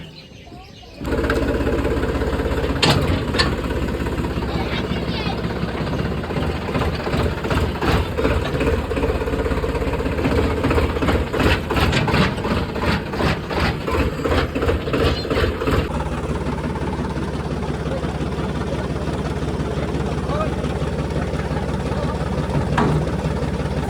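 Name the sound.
tractor engine idling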